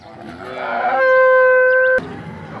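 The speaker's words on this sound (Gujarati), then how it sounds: "આ ભેંસ આવી છે।" A buffalo lets out one loud, close moo lasting over a second, rising from a groan into a sustained tone before cutting off.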